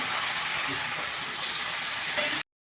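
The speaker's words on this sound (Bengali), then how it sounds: "লবণ হলুদ দিয়ে দিচ্ছি এবার ভালো করে কষিয়ে নেব সামান্য ধনের গুঁড়ো দিয়ে দিচ্ছি" Spices sizzle and are stirred in a hot pan with salt, turmeric and coriander powder, a loud, steady frying hiss with faint scraping of the spoon that cuts off abruptly.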